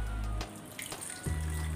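Water poured into a chilli paneer mixture in a pan, a brief close splashing pour with a short burst and a second trickle.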